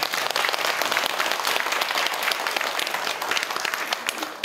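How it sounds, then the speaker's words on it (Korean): Applause from a congregation at a regular monthly Buddhist dharma service in a temple, a dense, loud wash of many hands clapping together that stays steady, then fades slightly toward the end. "이거 박수."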